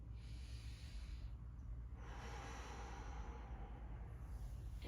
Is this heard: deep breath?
yes